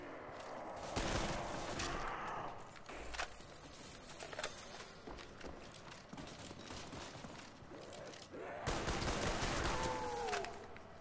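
Rapid bursts of gunfire from a weapon with a capped fire rate in Call of Duty's Kino der Toten zombies mode, loud and dense, coming in volleys separated by brief lulls, with no talking.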